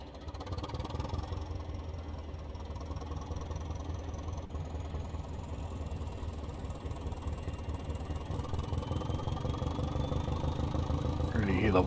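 Diesel engine of a Class 205 multiple unit in Train Simulator Classic rumbles steadily with a rhythmic throb that grows gradually louder, a faint high whine rising above it.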